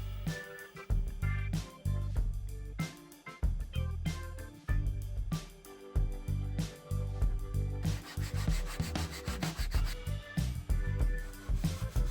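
Sandpaper wrapped around a coffee cup rubs a round speaker cutout in a small wooden pedal-rig box, giving close, steady back-and-forth rasping strokes that speed up into quicker scrubbing toward the end, with no voices.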